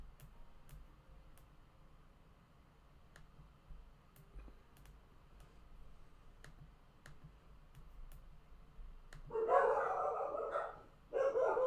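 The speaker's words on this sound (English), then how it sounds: "I apologize about the dogs." Dogs bark near the end in loud, close bursts after a quiet indoor stretch marked only by faint scattered clicks.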